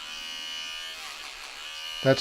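Wahl Power Pro electric hair clippers buzz steadily at close range, a constant whining hum, ending in a brief louder knock or click.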